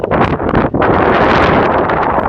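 Loud, continuous wind buffeting a microphone near Yosemite's Tioga Pass, a dense roaring rush with gusty surges and a brief dip near the start.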